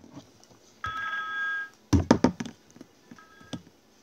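A phone call cuts out with a sustained electronic tone, then a burst of clattering taps and knocks, and a second shorter tone near the end, all fairly close with no talk over it.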